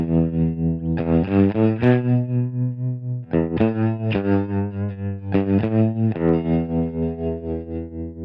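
An electric guitar plays through a tremolo effect pedal that pulses its volume at a steady fast rate. Several sustained chords are struck in turn, each one throbbing rhythmically, loud and close, with no talk.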